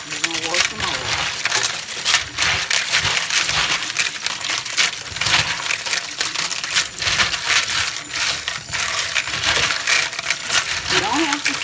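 Red beans being washed in a strainer, a dense continuous rattle and clatter of hard beans tumbling against the mesh under running rinse water, close and busy throughout.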